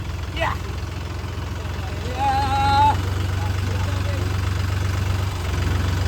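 A tractor engine idles steadily in the background, a low continuous rumble that carries through the whole stretch while people talk over it.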